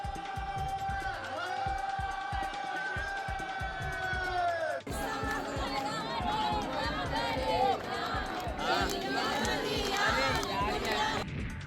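A dense crowd of devotees at the Sai Baba temple in Shirdi welcomes the New Year at midnight with cheering and chanting. The noise is loud and continuous, a steady throng of voices with rhythmic chanting throughout.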